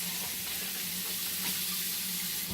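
Washed potatoes rinsed under a running sink faucet, a steady close hiss and patter of flowing water that lasts throughout, with no voices.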